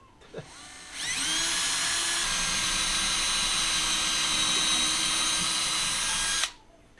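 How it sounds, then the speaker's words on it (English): A power drill whirs up and runs steadily at a high, even pitch for about five seconds, boring a pilot hole into a wooden 2x4 behind drywall close by, then stops. "I'm just going to go ahead and drill a pilot hole so I don't split the 2x4"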